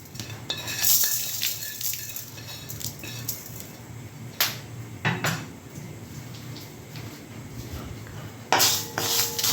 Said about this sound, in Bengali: মশলাগুলো এখন কড়াতে দিয়ে আমি ভেজে নেব সবগুলো